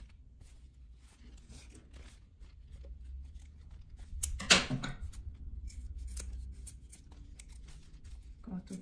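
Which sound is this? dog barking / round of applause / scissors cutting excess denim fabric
scissors cutting excess denim fabric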